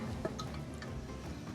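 Fermented yellow hot sauce is poured into bottles, giving soft, close liquid trickles and a few faint drips at low volume.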